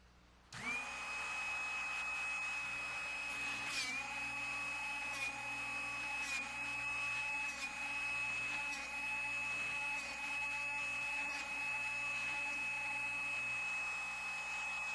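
A Drill Doctor 360X drill bit sharpening machine grinds a bit: the motor starts abruptly and then holds a steady, close whine with a bright sustained tone, broken by faint periodic clicks as the bit turns against the wheel.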